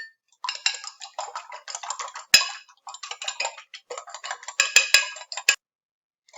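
Two eggs whisked with a fork in a bowl make quick, rhythmic metallic clicks and clinks in short bursts with brief pauses, close and fairly crisp.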